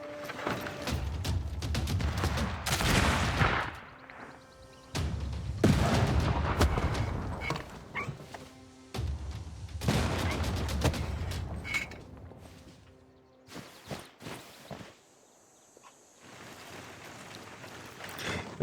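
Bombard artillery in the Civilization VI strategy game fires in several heavy booming volleys with rumbling tails, separated by quieter gaps, loud and close without talk.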